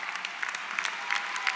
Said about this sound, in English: please stand while you applaud for them